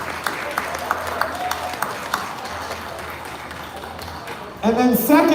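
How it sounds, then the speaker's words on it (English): An audience at a live gathering in Manila breaks into steady, dense applause, a wash of many hands clapping at moderate distance for several seconds before a voice begins speaking over the tail end. "Let's give us a round of applause"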